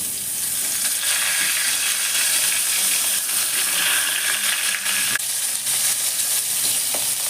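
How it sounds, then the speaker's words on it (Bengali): Hilsa fish heads fry in hot oil in a wok, giving a loud, continuous crackling sizzle with scattered pops and a brief stirring scrape near the end, with no voices. "আমি এই তেলি মাছের মাথাগুলো ভেজে নেব"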